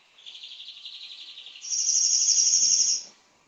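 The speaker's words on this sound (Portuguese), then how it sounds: "Os passarinhos aqui estão gritando." Small birds chirp outdoors in a thin, fast, high trill, with a second brighter call joining midway; close and clear with no talk.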